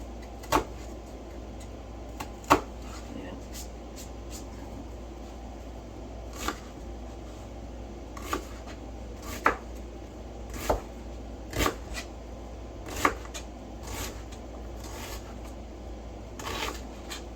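A knife dices ingredients small on a cutting board for slow cooker beans with ham hocks, giving irregular sharp taps spread over a quiet kitchen background.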